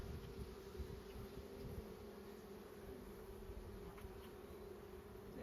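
Honeybees full of young nurse bees hum in an open hive, a steady faint buzz that continues throughout with no talking.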